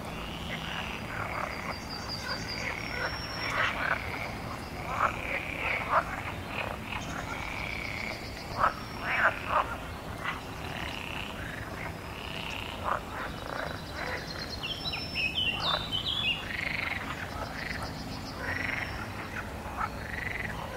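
A chorus of frogs croaking at a pond, many rapid overlapping croaks and trills repeating steadily throughout at moderate distance, with faint insect buzz and occasional bird chirps in the background.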